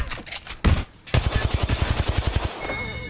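Rapid automatic gunfire from the Apex Legends battle royale shooter: a few short bursts, a pause, then a long, evenly spaced string of close, punchy shots that trails off.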